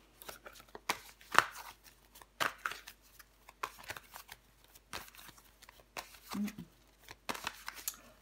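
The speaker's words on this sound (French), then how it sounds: "Je vais recouvrir des cartes." Tarot cards are shuffled, handled and laid down during a card reading, giving sharp papery riffles and soft taps at irregular intervals, fairly close, with faint talk between.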